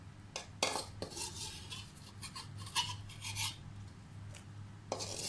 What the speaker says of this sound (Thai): ตอนนี้เราก็มา ตำแจ่วกันเลยนะคะ